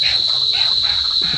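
Cicadas drone outdoors in Australia, a loud, steady high-pitched buzz that persists through the whole moment, with faint low rustling beneath it.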